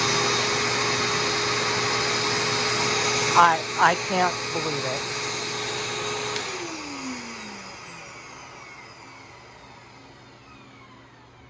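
A Eureka Ultra Whirlwind Lightspeed upright vacuum cleaner, a Goodwill find before refurbishment, runs with a loud steady whine and hum, then switches off and winds down into quiet, with someone briefly speaking over it.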